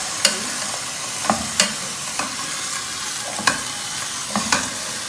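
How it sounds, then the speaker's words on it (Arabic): A small whole chicken sears in a hot pan, giving a steady low sizzle broken by several sharp stirring or scraping clatters spaced a second or so apart, close up with no voices. "ودلوقتي بشوحها على جنبين الاول، بديها الصدمه كده"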